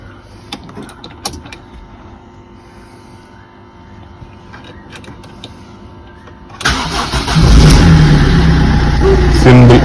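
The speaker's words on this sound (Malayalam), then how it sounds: "ഇനി സ്റ്റാർട്ട് ആവാൻ നോക്കാം." A Ford Fiesta engine cranks and catches on a newly programmed duplicate key, then settles into a loud, steady idle close by after some quiet clicks and rustling.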